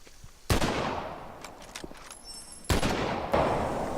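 Gunfire in the video game Survival Instinct (Homefront) during a hunting mission, with two loud broadband shots each followed by a long decaying echo, plus a few fainter cracks in between.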